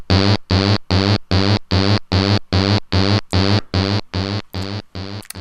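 A pulsing synthesizer tone from a modular synth, its pulse width modulated by an LFO, repeats in even on-off bursts, its buzzy timbre slowly shifting from pulse to pulse, with no voices.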